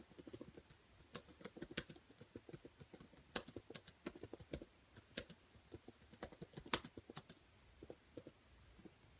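Quiet, irregular clicking of keys on a computer keyboard, tapped in quick bursts with short pauses, close and soft.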